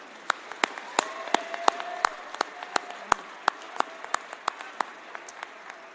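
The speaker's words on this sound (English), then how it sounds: "I would request all of you to join me in applauding all those who made this possible" Sparse, scattered claps ring out one at a time at a sports awards ceremony in Muscat, Oman. The claps are distinct and irregular over a quiet room, like a small group clapping unevenly.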